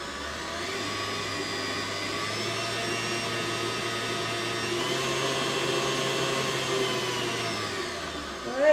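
Electric mixer beating sugar cookie batter with flour, baking soda and cream of tartar, a steady mid-volume motor hum that drones evenly for several seconds before a brief louder scrape at the end.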